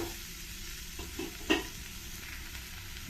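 Chopped fenugreek leaves fry in hot oil for a masala paratha filling, with a steady soft sizzle and a few stirring scrapes, one sharper clink near the middle.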